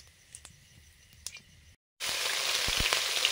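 Dry red chilies, whole cumin and whole garam masala spices hit hot oil for a cauliflower-potato curry, a quiet crackle suddenly bursting into loud, steady sizzling after a brief gap.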